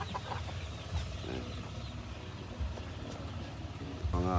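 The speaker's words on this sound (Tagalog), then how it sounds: "Yan, dami kong native na manok." Native chickens and turkeys on a backyard farm cluck and crow in a steady, busy chorus at mid distance, with a single word spoken briefly near the start.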